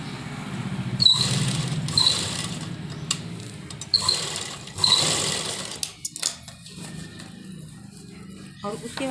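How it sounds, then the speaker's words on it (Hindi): A sewing machine runs in several short bursts while stitching the lining of a trouser pocket, close and fairly loud, with pauses and handling noises between runs and a voice speaking over parts of it. "और उसके बाद एक सिलाई हम इस तरह से इसके ऊपर लगा देंगे।"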